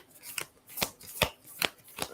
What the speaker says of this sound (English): I said I'll pull a card for you